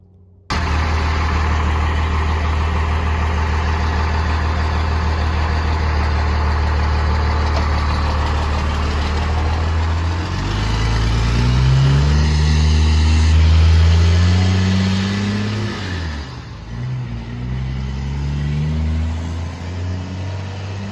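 A diesel-powered square-body Chevrolet Suburban on 38-inch tires idles steadily up close with a low, rumbling drone, then revs up a few times in rising and falling surges before settling back.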